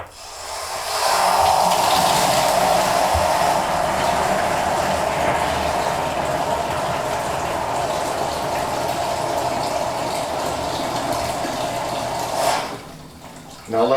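Water gushes steadily from the drain valve at the bottom of a hot water tank being flushed, a loud continuous rushing flow that holds for about twelve seconds before dropping away near the end.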